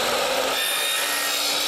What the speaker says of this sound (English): Drilling, banging, demolition.